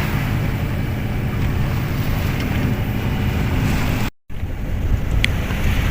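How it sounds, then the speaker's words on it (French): Sailboat motoring in calm, windless conditions on a passage from Boulogne to the Isles of Scilly, its engine a steady low drone under constant wind and water noise, with one brief dropout. "Bon, bah on a dû remettre le moteur."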